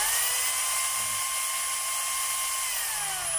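A DeWalt D25032 rotary hammer drill spins in drill mode, a loud, steady high-pitched motor whine held close and constant throughout, with no voices.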